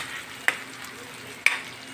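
Pork sautéing in a pan for vegetable adobo with squash and string beans, a soft steady sizzle with two brief utensil clicks, close and without talk.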